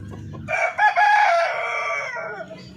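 A native Darag chicken, one of a small molting flock, gives a single close, loud drawn-out call, followed by quieter background sounds.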